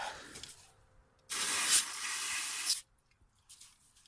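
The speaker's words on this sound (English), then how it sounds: "AutoZone brake cleaner." A can of AutoZone aerosol brake cleaner sprays in one loud hissing burst of about a second and a half, close up, with faint weaker spurts after.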